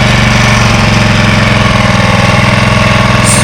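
A lawn mower engine idles steadily up close, a loud, even, fast chugging throb that continues without a break, with no voices over it.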